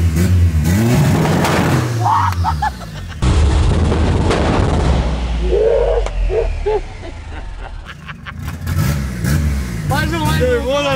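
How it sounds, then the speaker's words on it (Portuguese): A car engine revs hard and loud, roaring up and down in repeated surges with brief pops and drops, while people talk and shout over it. "Ai, eu vou ficar acelerando."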